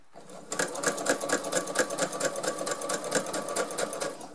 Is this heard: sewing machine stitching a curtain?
yes